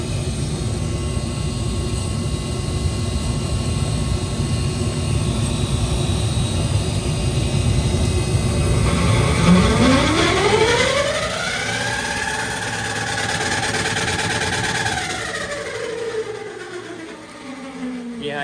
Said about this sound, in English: The inducer doesn't sound too healthy.